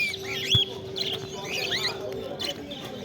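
Lutino cockatiels at a bustling bird market give off bright, repeated chirps and whistled calls, with one sharp close call standing out over a steady crowd murmur and other birds in the background.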